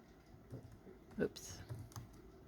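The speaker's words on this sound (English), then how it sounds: "we're going to type in origin" Typing on a computer keyboard, a short run of soft, uneven key taps at close range, with a slightly louder cluster partway through and faint room noise underneath.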